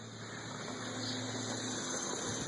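Water rushes from a frost-free outdoor spigot in a steady, even gush with a faint pump-like hum beneath, holding at a constant level from start to finish.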